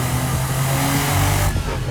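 Alpina B12 (E32) with a V12 engine and manual gearbox, revving steadily up close with loud, continuous mechanical drone and a brief dip near the end.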